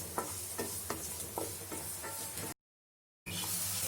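Masala with garlic frying in a pan for a Marathi makka patodi rassa gravy, a steady low sizzle with a few soft stirring scrapes, broken by a brief silent gap before the sizzle resumes.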